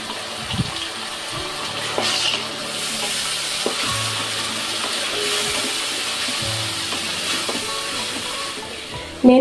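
Blended onion paste fries in oil in a pan, giving a continuous close hiss and sizzle with occasional soft stirring scrapes, no voices over it.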